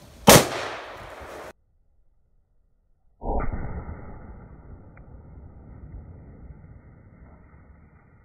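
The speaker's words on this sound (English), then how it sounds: "so now we're gonna shoot some fruit with the 7mm from about 50 yards" A single sharp crack of a 7mm rifle shot at fruit set about 50 yards away, loud and close, followed after a pause by a sudden burst and a long rushing, rumbling decay from the impact, with no speech.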